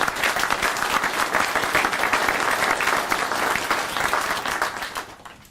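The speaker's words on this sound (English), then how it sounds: "I think it's worth a round of applause for them" Sustained applause from a crowd at a highway bypass grand opening, dense steady clapping that holds level for several seconds before starting to fade at the end.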